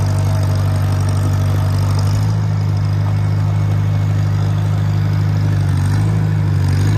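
A 1951 International Farmall tractor engine running steadily and loud close by, a deep even idle with mechanical clatter and a slight rise in revs partway through.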